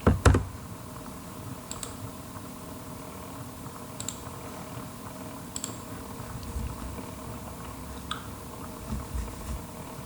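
Keys clatter on a computer keyboard while login details are typed and enter is pressed during a node software setup. Sparse, crisp key clicks sit over a steady low electrical hum.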